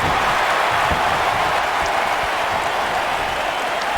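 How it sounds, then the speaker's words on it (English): Wrestling crowd at an HKW e-fed wrestling show cheering on a wrestler, a steady continuous roar of applause and cheers filling the whole stretch without a break. "the EFED Elite cheering on King Chaos"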